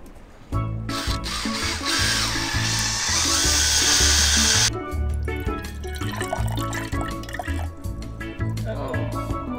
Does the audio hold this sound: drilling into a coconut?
yes